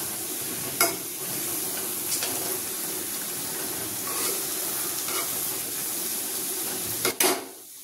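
Stuffed green brinjal frying in a pan gives a steady, moderate sizzle throughout, broken by a few brief clatters of stirring or turning, with no talking.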